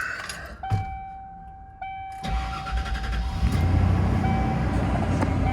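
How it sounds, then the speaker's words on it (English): A 1995 Ford Bronco Eddie Bauer with a 5.8-litre 351 Windsor V8 cranks briefly and fires, then settles into a steady, fairly quiet idle that continues to the end with no talk. "Fires right up, nice and quiet."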